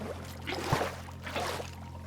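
Water being scooped up from a source in a beach-side video game, two soft splashy swishes about half a second apart over a low steady hum, no talking.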